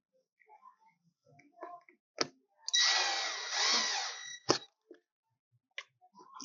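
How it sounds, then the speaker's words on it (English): A short burst of power drilling through a small plastic tab whirs for about two seconds, framed by sharp clicks and handling knocks in an otherwise quiet room. "Little plastic tab, line it up, drill through"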